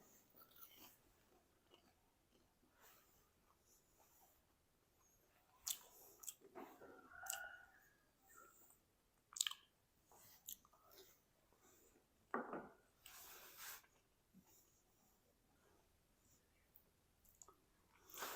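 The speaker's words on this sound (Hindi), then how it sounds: "एक पीस ना हम खा के चेक करते हैं" Crunchy bites and chewing of crispy fried potato and semolina snacks, a few scattered close crunches and clicks with quiet breathing between them, faint overall.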